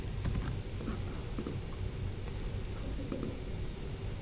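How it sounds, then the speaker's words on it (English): A computer keyboard is typed on steadily as an email address is entered into a registration form, giving soft, fairly faint clicks over a constant hum. "So typing in my email address here."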